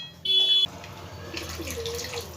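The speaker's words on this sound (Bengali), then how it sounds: "আরও একটু জল এর মধ্যে আমি দেব ওপর দিয়ে" Water pours into a pot of masoor dal dhoka curry with potatoes, a brief loud splashing rush at the start, then settling into a softer bubbling and trickling.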